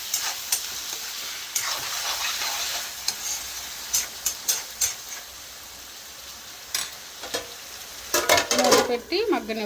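Mushrooms fry in a pan with onions, green chillies and tomatoes, a steady hiss and sizzle broken by clicks and scrapes of stirring that grow busier near the end, close up, with no talking.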